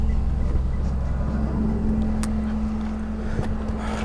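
A 2011 Blue Bird All American RE school bus driving, a steady low engine drone with road and wind rumble that stays continuous and loud from the inside, plus a few faint rattles, with no talking.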